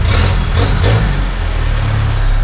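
A Holden Rodeo engine with a manualised A340 automatic and Transgo shift kit roars steadily at high revs in first gear, wheels spinning, loud and close, with a sustained mechanical drone throughout.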